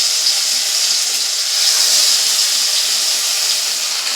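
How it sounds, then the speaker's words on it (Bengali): Small topse fish sizzling as they go one by one into hot oil in a wok, a loud, continuous close hiss of frying with no talking. "কড়াটা গরম হয়ে গেছে, এবার কড়াতে দিয়ে দিচ্ছি তেল। দিলাম, নিয়ে এবার মাছগুলো দিয়ে দেবো এক এক করে।"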